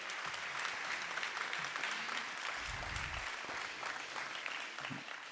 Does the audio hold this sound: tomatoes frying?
no